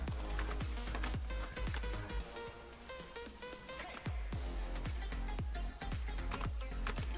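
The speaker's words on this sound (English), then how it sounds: "Did you guys hear the button clicking?" Rapid clicking of buttons or keys, a steady run of sharp taps at near-even spacing, close and fairly quiet, with faint background game sound and no talking.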